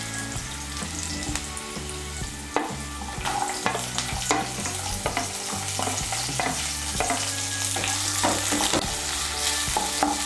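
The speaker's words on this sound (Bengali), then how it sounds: "বিনস কুচিটাকেও তেলের সঙ্গে মিশিয়ে নেব। মিশিয়ে নিয়ে একটু ভেজে নেব।" Chopped carrots and beans stir-fried in oil for paneer fried rice: a steady, close sizzle runs throughout, broken by repeated scraping and clacking strokes of stirring.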